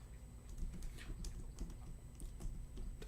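Quick, irregular key clicks from a computer keyboard, faint and close, tapping steadily for a few seconds with no voices.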